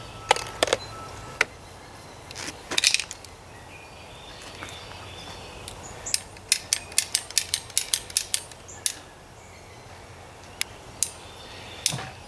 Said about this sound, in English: And since it's a ratchet,